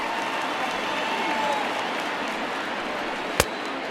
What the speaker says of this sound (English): the home crowd seems a little restless, so I'm sure they'd appreciate it